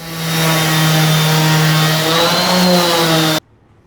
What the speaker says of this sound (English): And we're sanding and we're sanding.